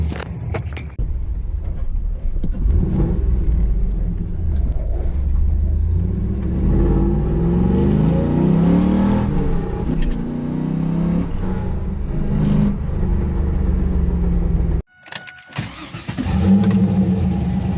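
A Trans Am's engine revs hard and roars for several seconds, rising and falling, then cuts out abruptly before rumbling back up near the end.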